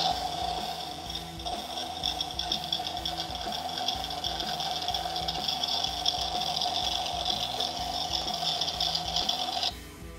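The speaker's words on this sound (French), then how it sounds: "Là, en 4, on a le son du démarrage." Sound module in a Corvette Stingray scale model plays an engine start-up effect: a steady mechanical rattling idle with a whining electronic tone, continuous for about ten seconds before cutting out.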